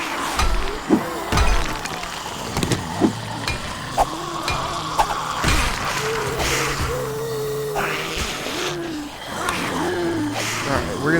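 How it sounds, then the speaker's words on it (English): Glass breaking in the survival game 7 Days to Die: several sharp, separate crashes and knocks spaced across the stretch, heard under someone talking. "Break some glass here."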